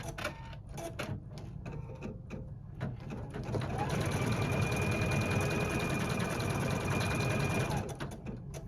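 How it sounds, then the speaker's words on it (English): An embroidery machine stitches the center of a design, first in short stop-start bursts, then a steady fast mechanical whir for several seconds before slowing, with a voice talking quietly near the start. "It's going to stitch the center."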